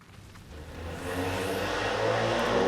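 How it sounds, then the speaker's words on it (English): A loud car engine revs and accelerates, its roar building steadily over a few seconds from a moderate whine to a strong, sustained growl with no voices over it. "That's a car."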